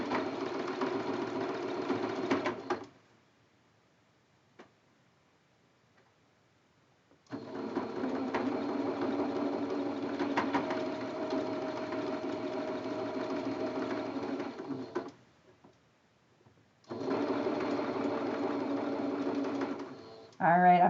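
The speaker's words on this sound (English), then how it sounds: "I'm done with that seam" Sewing machine running close up while stitching a quilt block seam, three steady mechanical runs broken by pauses, with a brief voice at the very end.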